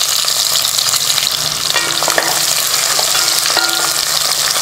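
Chopped shallots and garlic fry in a hot pan with a dense, steady sizzle throughout, stirred now and then with a few soft scrapes and clinks, and no voices.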